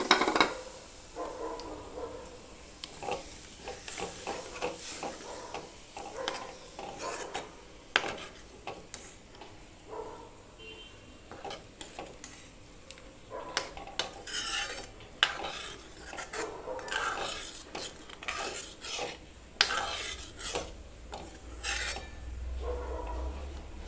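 Cooked kabuli chickpeas, pressure-cooked to two whistles, tipped into fried masala in a pan and stirred, giving close, repeated scraping and rubbing stir sounds in an irregular rhythm, with no talking.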